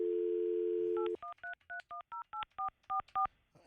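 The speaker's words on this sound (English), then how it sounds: "I'm going to get Fester on the phone while we're talking about this" A telephone line hum gives way to a quick run of about ten touch-tone keypad beeps, evenly paced and clear, as someone dials a call on a live morning radio show.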